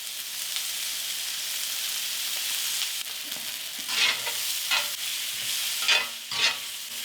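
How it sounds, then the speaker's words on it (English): Onions and peppers fry in a pan with a steady, close sizzle, broken by a few louder crackling bursts as the vegetables are moved about. No one speaks. "Now add the peppers and cook until they are slightly softened."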